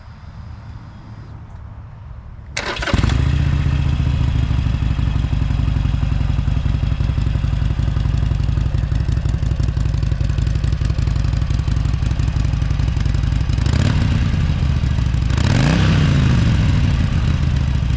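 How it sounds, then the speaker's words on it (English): A 2018 Harley-Davidson Sportster with stock pipes cranks and starts after a quiet moment, then settles into a loud, close, steady idle with a throbbing rhythm and a couple of brief throttle blips near the end. "I'll start it up for you guys. It's really different than our 79 Sportster sound."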